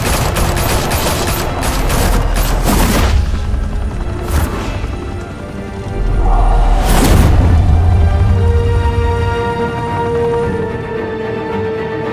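Sustained rapid gunfire and booming blasts in a Batman Telltale Series game battle, loud and continuous, with a crash-like burst midway and an engine or helicopter drone underneath.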